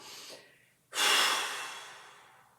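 Deep breathing during a mobility workout, a short breath followed by a strong, drawn-out inhale through the nose and mouth, close and clear in a quiet room.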